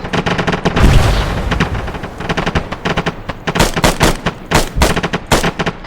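Rapid gunfire and heavy booms from an Arma 3 amphibious assault battle with a tank firing HEAT rounds, loud overlapping bursts and repeated sharp shots in an irregular rhythm close by.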